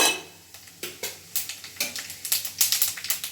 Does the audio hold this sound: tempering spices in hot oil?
yes